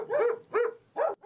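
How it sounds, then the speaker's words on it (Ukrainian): Stray dogs at an animal shelter give three quick, separate barks in a row, loud and close, with no talk. "найбільше тут бродячих собак – 200 дорослих та 50 цуценят"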